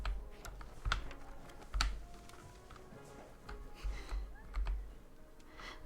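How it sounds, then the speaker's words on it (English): Keyboard typing in the Academia: School Simulator video game, a faint patter of keystrokes in uneven bursts with a few louder clicks, heard alone without talk. "And someone's typing in that room."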